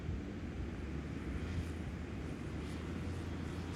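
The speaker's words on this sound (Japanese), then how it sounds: "今ですね、ちょうどですね、モーターグライダーを飛んで、ちょっとですね、流れ変わると思います。" A motor glider flies nearby during an outdoor drone flight, giving a steady, low engine drone with a continuous airy rush that holds at an even level throughout, with no talking.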